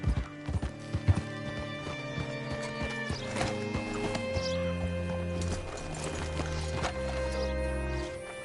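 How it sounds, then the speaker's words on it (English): Horse hooves clip-clopping in Red Dead Redemption 2 as a rider arrives at a hitching post, uneven steps and a whinny over a game music bed, with brief snorting and shuffling near the end. "Hitch your horse up here."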